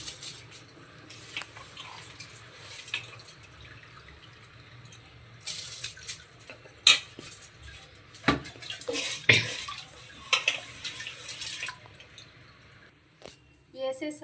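Rice tipped into a cooking pot for chicken tahari, heard as irregular wet pours, squishes and clatters of grain, some loud and close, with quieter stretches between.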